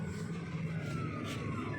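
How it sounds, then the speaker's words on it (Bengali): A police car moves along a flyover in the early morning, its siren a faint, distant wail over a steady city hum. "ওই যে দেখেন পুলিশের গাড়ি যাইতেছে ওই দিক দিয়ে, ফ্লাইওভার দিয়া।"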